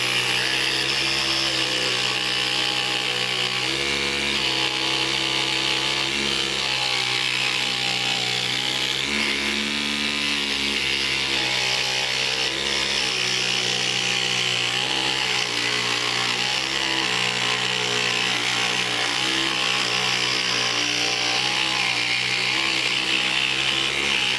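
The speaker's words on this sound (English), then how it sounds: "I love the idea of making the jigsaw stationary" A Proxxon jigsaw mounted stationary in a vise cuts steadily, giving a loud, continuous mechanical buzz with a rapid reciprocating drone and no pauses and no talking.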